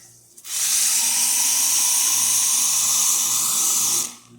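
A steady, loud rush of hot water hissing and pouring from the spout of a Lelit Bianca espresso machine, starting abruptly, holding constant for several seconds, then cutting off.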